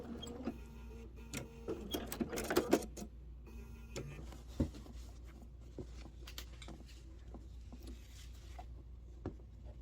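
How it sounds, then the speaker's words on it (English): A sewing machine stitches down double-fold quilt binding at a corner, a faint run of quick mechanical ticks and clacks with a few louder knocks partway through, then lighter scattered clicks. "Stitch down to my point. Secure my seam."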